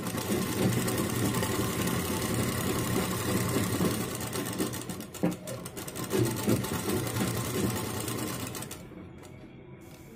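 A sewing machine runs steadily, stitching the corners of fabric for a padded blouse or bra-style garment, with a continuous loud whirring rhythm through most of the clip that briefly stutters midway and stops near the end.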